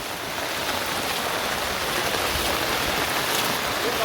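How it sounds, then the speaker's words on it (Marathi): Water runs steadily along a muddy road in a residential area lacking drains, a constant broadband wash with no voices. "पूर्ण प्लॉटच्या पाणी रस्त्याने वाहत आहे"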